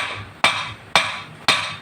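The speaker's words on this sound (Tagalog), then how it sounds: "gumamit kayo ng martilyo maso no pukpukin ninyo" A hammer or mallet strikes a Honda CB150R motorcycle part three times at an even pace, each blow a sharp, loud metallic impact followed by a short ringing decay, with no talking.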